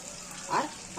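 Tomatoes frying in a pan for Bengali-style ghugni, giving a brief, soft sizzle with a couple of short surges of crackle close by.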